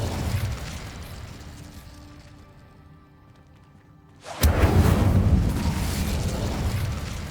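A loud fiery burst of the Incendio fire spell in Hogwarts Legacy erupts suddenly after a quieter stretch of ambient rumble, then roars on as a sustained blaze.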